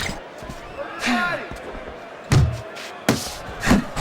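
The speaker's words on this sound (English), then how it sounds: "Good double jab by Clubber." Punches land in a Fight Night Champion boxing match, a quick double jab among a few sharp, separate thumps, with commentary and crowd noise around them.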